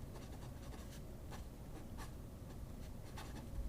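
A fine-nib pen scribbles on paper in quick, scratchy strokes, close and soft, over a steady low background hum.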